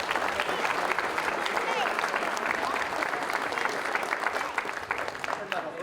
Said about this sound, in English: just like to give us a round of applause as well